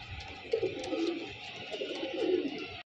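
Soft, rolling coos come from caged Giribaz and coloured fancy pigeons, several birds overlapping at moderate distance before the sound cuts off abruptly near the end.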